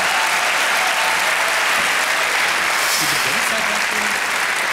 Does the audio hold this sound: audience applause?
yes